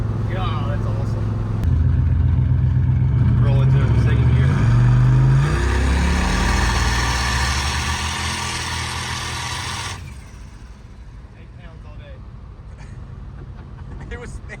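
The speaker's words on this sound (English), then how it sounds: "Half throttle, third gear, and it just goes." Turbocharged police car accelerating hard in third gear at half throttle with a loud wastegate: a close, loud engine roar swells for about ten seconds, then drops to a lower rumble, with voices talking over it.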